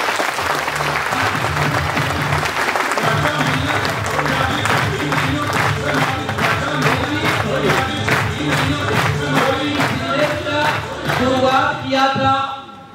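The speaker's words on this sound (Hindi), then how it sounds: "दोस्तों एक बार तालियां आपके लिए" Loud, dense applause from a large crowd at a business gathering, with some cheering mixed in, sustained and close before fading at the very end.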